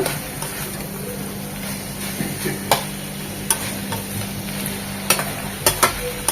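Snake gourd frying in a pan with shrimp, a soft continuous sizzle broken by occasional sharp clicks and scrapes of a utensil stirring, close by and without speech.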